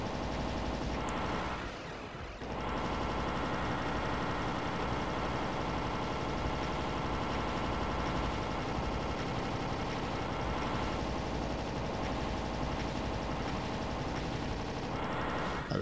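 Rapid gunfire from the shooter game Doom 2, a dense continuous rattle of shots layered with game sounds and a steady droning background, loud and unbroken for the whole stretch apart from a brief dip near the start.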